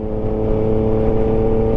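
A car engine hums steadily while driving on a road near Ouled Frej and Boulaouane, Morocco, a loud, even drone with harmonic whine and no voices over it.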